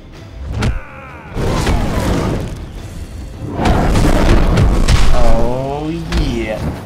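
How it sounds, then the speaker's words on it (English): Dragon special attack from Liu Kang in Mortal Kombat Mobile, a loud booming, whooshing burst of game effects with sweeping tonal swells and thuds, with speech-like sound mixed in. "I'm gonna kill him with my dragon."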